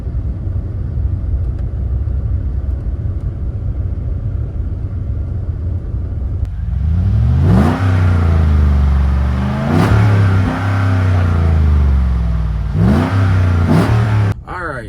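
Chevrolet Avalanche pickup with newly replaced brake pads on the drive home, a loud close engine drone that rises and falls through several revving gear pulls, with no talk.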